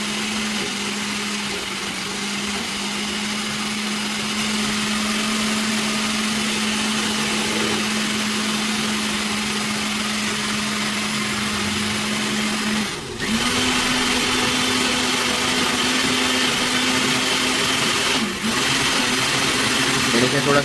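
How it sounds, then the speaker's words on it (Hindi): An electric grinder runs continuously on a garlic mixture for dahi bhalla, a loud steady motor whine close by that dips briefly twice as the load shifts, with a voice speaking over it. "ये अब हमने अच्छे से ग्राइंड करना है"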